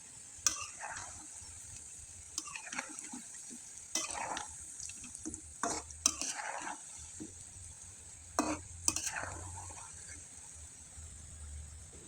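Banana snacks deep-frying in hot oil while being stirred, a steady hiss with intermittent scraping strokes and splashy clatters, fairly quiet and close, with a faint voice now and then.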